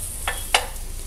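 A bread omelette toasts slowly on a low-heat stove pan under a faint steady sizzle, broken by two quick scraping clicks from a utensil.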